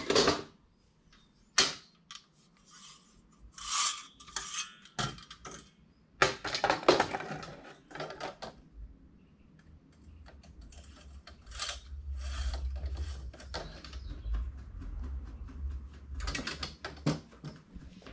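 A two-needle sewing machine runs in short bursts, close and fairly quiet, with rapid mechanical clatter, ratcheting clicks and knocks separated by pauses and a low motor hum in the later part, with no talking.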